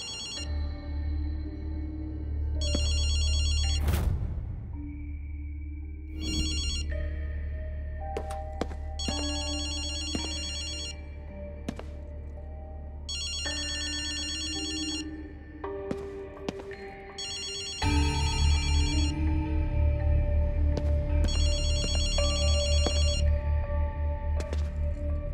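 A telephone in GhostWire: Tokyo rings in repeated bursts of electronic trilling, spaced a few seconds apart over a low game ambience, with no talk.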